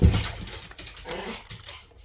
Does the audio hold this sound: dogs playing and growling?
yes